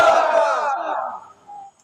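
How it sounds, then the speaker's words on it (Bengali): A crowd at an Islamic gathering roars a takbir chant in unison, one loud, sustained collective shout that swells and then fades out within about two seconds. "আল্লাহর কোরআনের জন্য দেন তো ময়দানের একটা তাকবীর"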